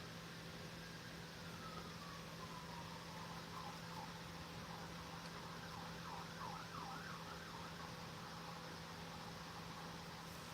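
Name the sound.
police car siren passing on the street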